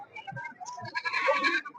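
A Mayilambadi goat bleats at the Ettayapuram goat market, a few short, fairly faint cries mixed in with the background murmur of the market crowd.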